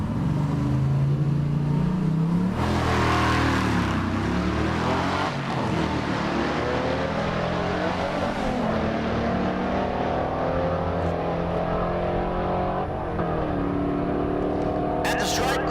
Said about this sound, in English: That's Nico Christofori in the left lane, the stick shift Malibu. Right lane, the BMW